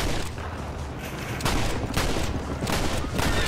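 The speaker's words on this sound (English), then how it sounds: "I guess I'll try out the revolver then." Revolver fire in Red Dead Redemption during a prison wagon ambush: several loud, close gunshots crack in uneven succession over steady background game noise.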